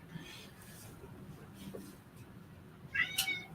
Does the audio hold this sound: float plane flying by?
no